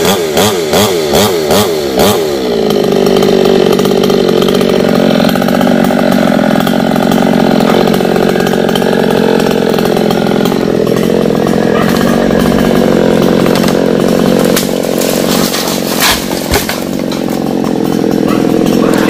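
A chainsaw saws into the trunk of a star apple tree in a rural yard, its engine revving in steady pulses at first and then settling into a sustained, loud cutting drone that runs through the whole stretch.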